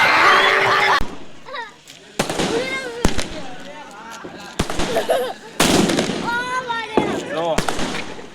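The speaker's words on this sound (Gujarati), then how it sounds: "હાલો ફટાકડા ફોડવા" Diwali firecrackers go off in a series of sharp, loud bangs at irregular intervals, with crackling bursts between them and children's excited voices calling out nearby.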